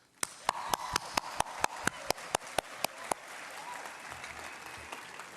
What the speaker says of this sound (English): Can I please ask everybody to give a round of applause to our graduates?